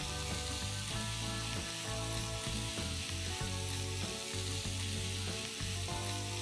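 Aromatic whole spices frying in hot ghee for coriander rice, a steady close sizzle and crackle with occasional stirring scrapes, continuous and fairly loud with no talk.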